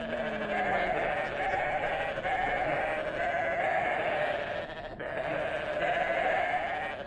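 A continuous goat bleating in the video game WorldBox, steady and tonal, with a brief break midway before the bleat resumes.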